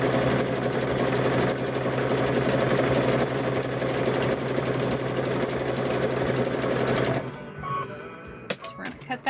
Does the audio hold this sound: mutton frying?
no